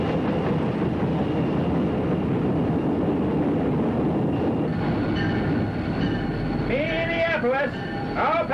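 A passenger train pulls into Minneapolis in a 1974 dramatic radio production, rolling with a loud, steady rumble that swells into high, wavering brake squeals near the end, with voices mixed in.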